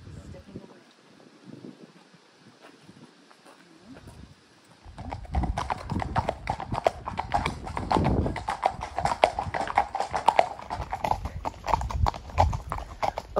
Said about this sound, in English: So the horse is carrying our poles.